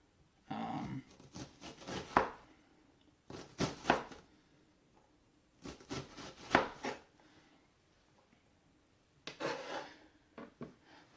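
Strong, tightly layered onions being cut on a cutting board: four separate bursts of rapid knife chopping with quiet pauses between, close and moderately soft.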